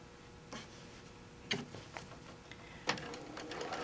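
A sewing machine stitches a seam on a quilt in short, faint bursts of needle clatter separated by pauses, close by and quiet, with no talking.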